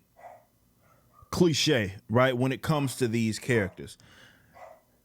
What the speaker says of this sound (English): Dogs, again, always bark when I start my videos.